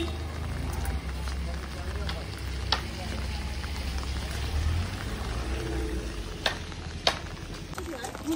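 Steady rain patters and hisses on surfaces nearby in a market in Kalimpong, a constant wash of sound, while a person talks over it.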